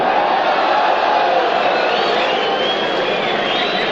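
A large football stadium crowd at a 1963 Brazil versus France match roars in a steady, dense wash of noise, loud and continuous throughout, with no single voice standing out.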